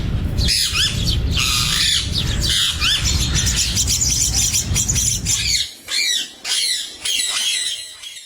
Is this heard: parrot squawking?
yes